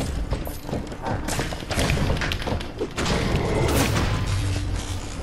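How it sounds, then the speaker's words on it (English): Fireworks bursting in the video game Minecraft Dungeons during a hard boss fight, a rapid series of dull thuds and booms mixed with dense battle clatter, close and loud with no talking. "fireworks are really good against these"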